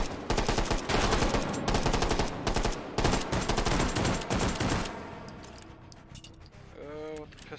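Rapid pistol gunfire in the VR shooter H3VR during a Take & Hold round, a dense run of loud, close shots over about five seconds, then a quieter stretch with faint game sounds and a brief tonal chirp.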